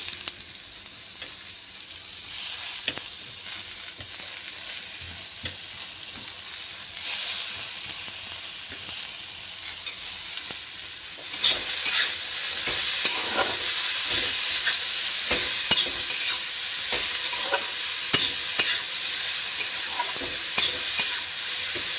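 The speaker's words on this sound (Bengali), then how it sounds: "এইটা আমি ভালো করে লাল করে ভেজে নেব" Steady hissing sizzle of potatoes frying in oil for a fenugreek-potato curry, growing louder partway through, with occasional stirring scrapes and no talking.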